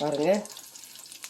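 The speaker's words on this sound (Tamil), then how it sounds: "இன்னும் 4 வடை போட்டுடலாம்." Soya and Bengal gram vadai fry in hot oil with a steady soft sizzle, while a voice speaks briefly over it at the start.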